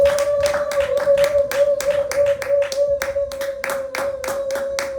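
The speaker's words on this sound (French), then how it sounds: "Clap for the Lord." A congregation at a church service claps in a fast, even rhythm, many hands together loud and close, over a sustained steady tone that runs underneath.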